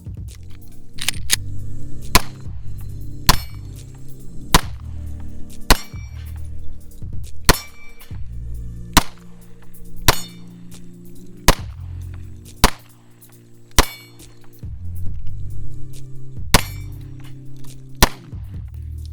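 A Taurus G3C 9mm pistol fires at steel targets, giving sharp, loud shots at a steady pace of roughly one per second, each with a ringing metallic clang from the steel and a low rumble between shots.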